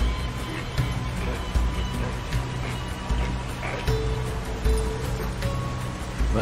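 A waterfall in Far Cry 6 roars as a steady, broad rushing wash of water, with occasional thumps and faint tonal game sounds layered over the constant flow.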